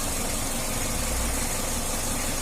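A Mitsubishi L300 engine idles after a tune-up, giving a steady, close, continuous low rumble with an even throb and no voices.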